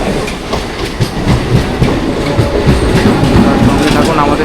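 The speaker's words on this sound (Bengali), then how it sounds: "আমাদের ট্রেন চলে এসছে।" A train arriving at Karnanagar station, Hooghly district, rolls past close by with loud rhythmic clickety-clack of wheels on rail joints over a continuous rumble.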